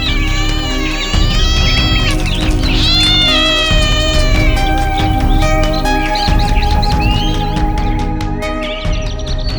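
Cats meow repeatedly as a storytelling sound effect, with drawn-out, wavering cries over a backdrop of music, loud and close throughout.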